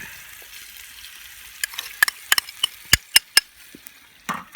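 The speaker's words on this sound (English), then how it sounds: "I'll just brown this beef up" Beef browning with yellow onion and garlic in a Dutch oven: a steady close sizzle broken by sharp, loud pops and spits.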